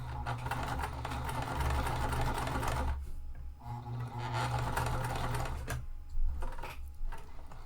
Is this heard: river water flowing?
no